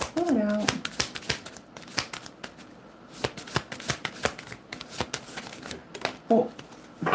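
A deck of oracle cards is shuffled up close in quick, crisp riffles and flutters that run throughout, with short bits of talk at the start and again near the end.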